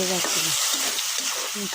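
Roast masala being stirred into fried onions for chicken roast, with a constant bright sizzle and close scraping strokes of a spatula in the pan, a faint low voice murmuring underneath.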